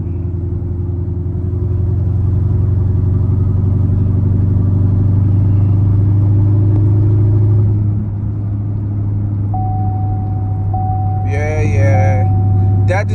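Steady low engine drone and road rumble inside a car moving through traffic, loud and continuous, with a brief tonal beep and a short burst of voice near the end.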